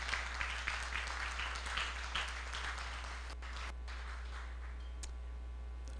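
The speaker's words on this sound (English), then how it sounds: "let's just give a big round of applause here" A room of guests applauds at a reunion dinner, the clapping moderate and fairly distant at first, then thinning and fading to a quiet hum by the end.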